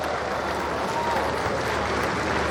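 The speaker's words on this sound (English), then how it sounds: "we shall still put our hands together and welcome him with a loud round of applause" An audience at a Boeing Sukanya women-in-aviation event applauds to welcome the Chief Minister, a sustained wash of clapping from a crowd with faint voices mixed in.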